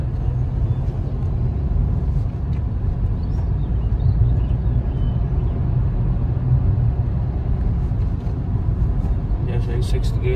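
A Hyundai Verna cruising in sixth gear at about 70 with cruise control on, a steady low engine and road rumble filling the cabin throughout, with a voice talking over it.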